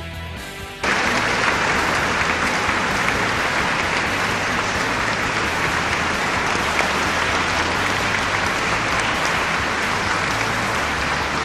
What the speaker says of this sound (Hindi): ये वो तालियों की आवाज है जो सचिन तेंदुलकर और उनके चाहने वाले ताउम्र नहीं भूलेंगे।